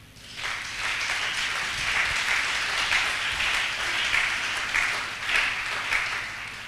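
A church congregation applauds to acclaim the Lord. The clapping is steady and sustained from the crowd for several seconds, fairly loud and full, with no speech over it.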